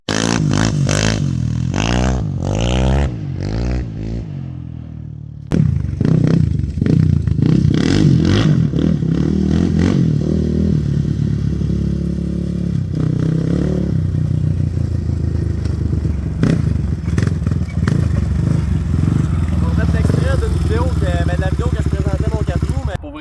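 Motocross motorcycles ride a dirt track, engines loud and close, revving up and down continuously with clatter, while people talk over it.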